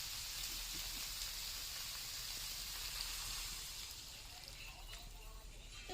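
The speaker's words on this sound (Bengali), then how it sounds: "এবার জল দিয়ে দেবো" Water added to a hot frying pan gives off a faint, continuous hissing sizzle that eases slightly toward the end.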